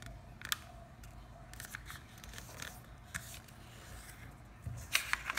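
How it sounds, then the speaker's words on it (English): A sheet of origami paper being folded in half to start a paper box: soft, faint crinkles and a few sharper creasing snaps, with no voices. "The first step to make the box is to fold the paper in half."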